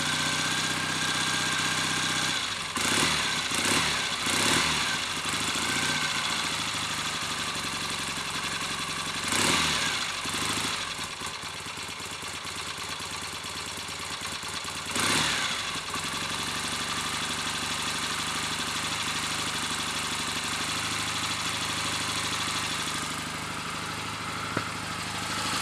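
A Triumph Bonneville T120V motorcycle engine runs close by after being started, idling with a steady mid-pitched throb broken by several sharp revs and knocks, alone without talk.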